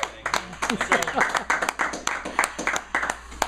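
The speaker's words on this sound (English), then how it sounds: "Round of applause." A round of applause for a guest introduced as Dr. Liam Schubel, with scattered, crisp claps rising and falling over a few seconds, fairly close, mixed with cheering voices and chatter from a small group.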